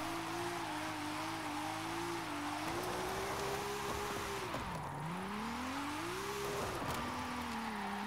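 Forza Horizon 5 gameplay with a Nissan Silvia's engine droning and shifting pitch through revs and gear changes, continuous and fairly loud, over a steady hiss of rain.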